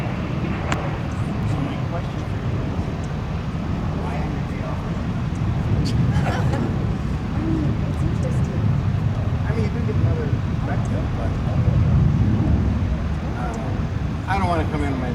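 An Austrian Airlines Boeing 777 and a United 787 Dreamliner taxi on the ramp at Chicago O'Hare, a constant low jet rumble with faint background voices and occasional clatter, moderately distant.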